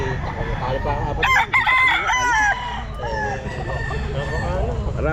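A ten-month-old Raptor Sweater gamefowl rooster at the Black Pumpkin Grotto pet market crows once, loud and close, against a background of murmuring voices.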